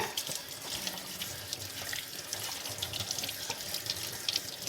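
A part of a rotary cheese grater is rinsed under running tap water, giving a continuous close splashing rush of water into a sink throughout, with no voices.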